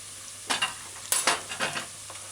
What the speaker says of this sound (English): And use your wooden spoon and stir fry.